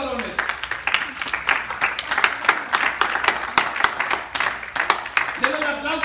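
A church audience claps during a sermon, a dense run of sharp, close handclaps throughout while a voice speaks over the applause.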